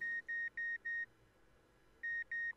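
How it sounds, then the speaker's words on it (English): Electronic beeping in the video game Mary Skelter Nightmares: four evenly spaced tones in a quick rhythm, a pause, then three more, fairly quiet and clean over a faint background. "The hell is that beeping sound?"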